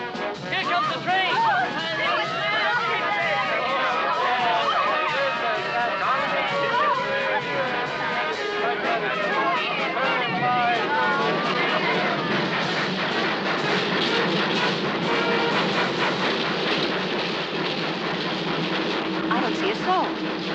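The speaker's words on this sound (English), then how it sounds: "Here she comes! Here comes the train!" A train rumbles and clatters close by, loud and continuous, with a crowd's excited chatter mixed in.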